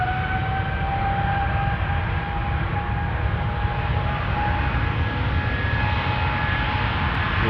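KLM Boeing 777-200, about 20 years old, departing Amsterdam Schiphol for San Francisco, a loud sustained jet roar with a rumbling low end and faint whining tones, steady throughout.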